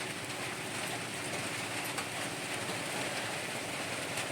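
Rain pouring steadily onto an outdoor kitchen, a dense continuous hiss with no breaks, fairly loud and close, with no voices.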